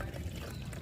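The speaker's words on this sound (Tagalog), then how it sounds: "Mag-ingat lang tayo sa pagbuhos ng tubig para tumapon yung mga buhangin" Water is poured into the battery compartment of a Honda Click scooter to wash out sand, making a steady, close, rushing splash that runs without a break.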